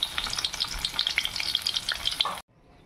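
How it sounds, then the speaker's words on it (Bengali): Fish tail frying in hot oil, a bright crackling sizzle with dense popping, close and steady for about two seconds before cutting off abruptly. "তো লেজাটা আমি একটু ভেজে নেব"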